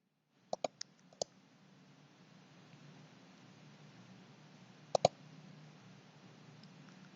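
A computer mouse clicks in short bursts, a few quick clicks near the start and another pair about five seconds in, with quiet pauses between them.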